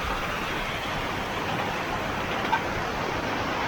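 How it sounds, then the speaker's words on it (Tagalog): Heavy rain on a road climb near Antipolo Cathedral makes a dense, steady broadband hiss, loud and constant, with no voices. "Lakas ng ulan."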